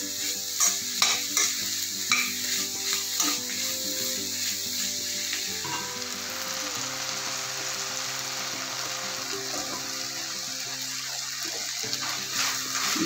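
Tempering sizzling in a pan for a bitter gourd gravy, a continuous crackling fry with stirring scrapes, louder and busier in the first seconds, then settling into a steadier hiss.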